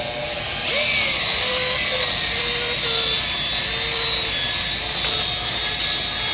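A brush scrubs the injector cup bore inside a cylinder of a Volvo D13 diesel engine, making a steady, close, whirring rub with a high tonal edge over a constant shop-like background hum.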